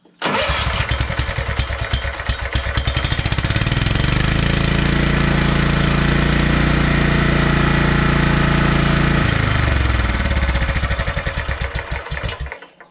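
A Kohler Command engine repowering a Scotts by John Deere lawn tractor cranks, catches and runs with a loud, steady, throbbing idle, then winds down and cuts out near the end.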